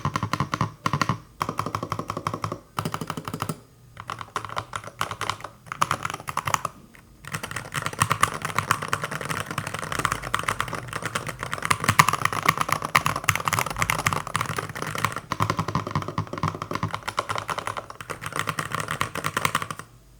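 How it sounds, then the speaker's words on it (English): Continuous typing on a Womier SK75 mechanical keyboard, fast clacking keystrokes close up, with a few brief pauses between bursts. "Typing on this feels fine overall."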